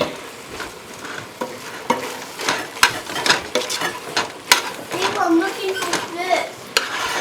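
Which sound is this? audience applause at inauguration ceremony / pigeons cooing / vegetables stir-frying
vegetables stir-frying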